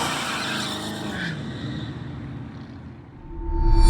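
A car, apparently a Dodge Hellcat replica, slides with its tires skidding on pavement; a loud, close engine and tire roar fades briefly, then surges again at the end.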